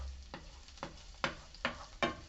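Finely chopped onions sizzle in a frying pan while a utensil stirs them, scraping in about five quick, regular strokes over a soft, steady frying hiss, close and fairly quiet, with no voices.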